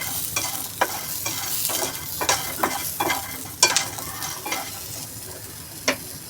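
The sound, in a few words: curry leaves and chillies frying in a pan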